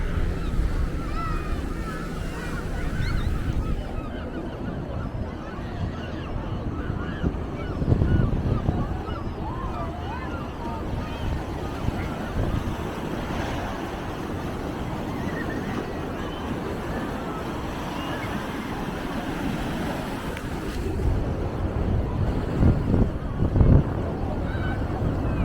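Choppy sea surf at Blackpool beach, a steady rushing wash of waves under gusting wind buffeting the microphone, with a few heavier surges rising out of the continuous noise.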